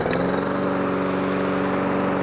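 A Toro 21-inch gas walk-behind lawn mower runs close by at a steady, loud idle, its engine drone even and continuous with a faint rattle, no voices.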